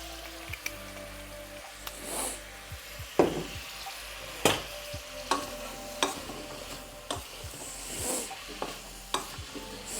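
Olive oil heats in a pan for a grilled cheese, giving a faint, soft sizzle with scattered light pops and utensil taps.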